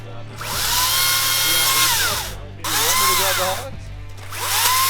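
A loud chainsaw revs up and down in three long whining bursts, close by, with a steady engine drone underneath.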